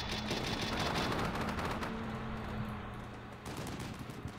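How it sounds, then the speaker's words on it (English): Gunfire in the video game Combat Mission, dense overlapping bursts of machine-gun and rifle fire forming a continuous rattling barrage that thins slightly toward the end, moderately distant and steady. "Oh, was that return fire?"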